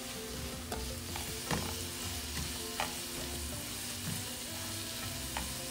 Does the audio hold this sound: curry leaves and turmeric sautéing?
yes